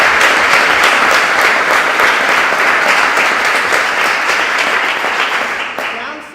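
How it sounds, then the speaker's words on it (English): An audience at an education event bursts into dense, sustained applause, loud and close throughout, easing off slightly just before the end. "Give yourselves a round of applause"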